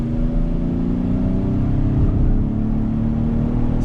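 2020 Ford Explorer Platinum all-wheel-drive SUV accelerating through a left-hand bend, a loud, steady engine drone heard from inside, with a rising tone and constant road noise.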